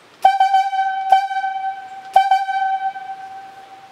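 Highlead logging whistle signal calling for the straw line back on the rigging: three loud, sharp whistle blasts about a second apart, each ringing on with a bright, reedy tone.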